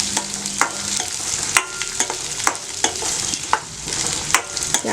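Onions and peas sauté in a pan while a spoon stirs them, giving a steady close sizzle broken by frequent sharp scraping clicks of the utensil against the pan.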